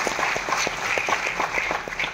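Audience applause at a network marketing event in Mumbai: a dense, steady round of many hands clapping, loud and close, lasting the whole moment with no voices over it.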